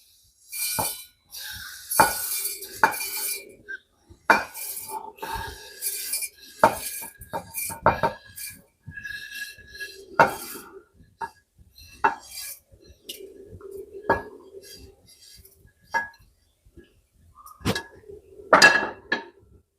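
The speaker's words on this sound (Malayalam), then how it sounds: "ഇപ്പോൾ നമുക്കൊരു മിക്സിയുടെ ജാറെടുത്തിട്ട്" Repeated clinks and clatters of a mixer grinder jar and utensils being handled, irregular knocks and taps spread over about twenty seconds, close up and without talking.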